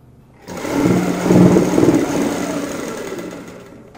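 Sewing machine stitching over a plastic elastic band while sewing a pleated palazzo pant; a steady close mechanical whir that starts abruptly, swells briefly, then runs on evenly, with no talk.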